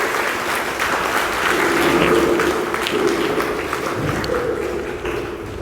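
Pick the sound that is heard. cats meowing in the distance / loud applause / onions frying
loud applause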